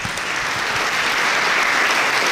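An indoor audience at a local council session applauds junior handball champions, sustained dense clapping that is loud and close throughout.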